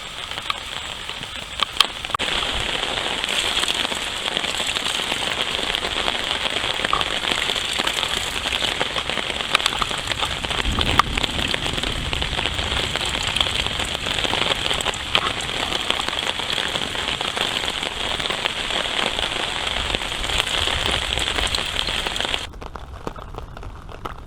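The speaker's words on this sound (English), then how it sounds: "raining pretty good." Heavy rain pours steadily, a dense, continuous hiss of drops drumming on surfaces close by, cutting off abruptly near the end.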